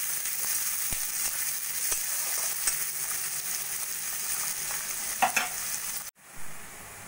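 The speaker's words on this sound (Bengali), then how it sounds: "পেঁয়াজটা একটু সোনালি করে ভেজে নেব" Two large, thinly sliced onions fry in hot oil for egg masoor dal, giving a steady bright sizzle with a few stirring scrapes before the sound cuts off abruptly near the end.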